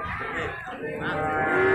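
Cattle at the Singosari cattle market, a drawn-out low moo rising near the end over the market's background murmur, with voices around.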